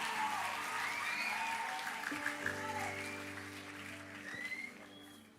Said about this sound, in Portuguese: Você pode aplaudir forte a Jesus?